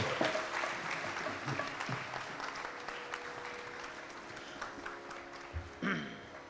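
Audience applause at a devotional concert during the Shri Radha Kalyanam festival in Gandhinagar, Vellore, with a sustained, fairly soft wash of clapping in a hall and faint musical tones and voices underneath.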